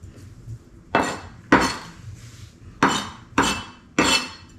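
A knife chops ingredients finely on a cutting board for camarones enchilados, six sharp, close knocks in an uneven rhythm with quiet gaps between them and no talking.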